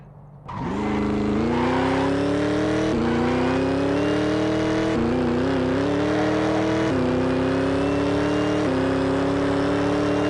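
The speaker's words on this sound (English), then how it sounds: "it's a really loud supercharger as well" A supercharged Lexus launches at full throttle, its engine and supercharger whine climbing loudly through a series of rising gear pulls with crisp shift breaks between them, close and continuous.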